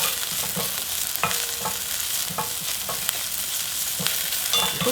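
Chili powder stir-fries in scallion oil in a pan for spicy soft-tofu ramen, a close, continuous sizzle punctuated by regular scraping strokes of a utensil against the pan.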